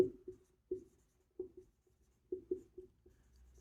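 Pen writing out a class 8 square-roots math solution on paper, a series of soft, separate scratchy strokes in irregular rhythm, close and quiet, with no talking.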